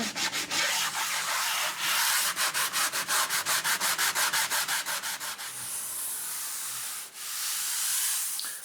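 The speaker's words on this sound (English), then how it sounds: "I can just take a little sanding block and just kind of" Rhythmic back-and-forth rubbing of a sanding block rounding over wood edges, quick regular strokes close by, then a steadier hiss of sanding toward the end.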